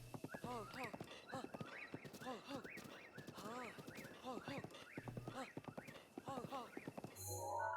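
A horse in a video game trots with rhythmic clip-clop hoofbeats and gives a whinny, heard under a person talking throughout.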